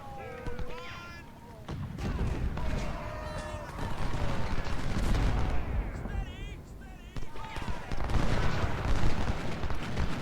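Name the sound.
musket and artillery fire in video game Ultimate General: Civil War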